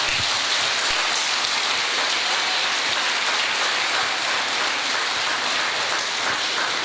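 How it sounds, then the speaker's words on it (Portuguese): Sustained applause from a church congregation fills the space, a dense, steady wash of many hands clapping without pause, loud and even throughout. "Você pode aplaudir o Senhor?"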